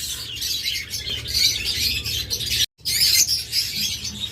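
A pair of blue mask lovebirds chirps in a dense, continuous, bright chatter, close and fairly loud, with one brief silent break midway.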